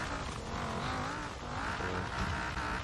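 A car engine in Forza Horizon 4, supposedly a V10, gives a deep, continuous drone that rises and falls slightly as it revs, loud and close with no voices.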